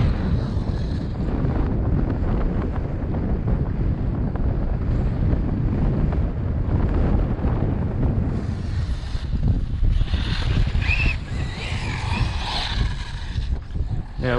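Strong, steady wind buffets the microphone on a beach where an Arrma Talion RC car is driven, a continuous loud rushing roar with gusty swells, with faint higher whirring hints of the car underneath.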